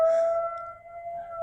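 A sustained siren tone drones from far off, steady and faint, slowly swelling and fading.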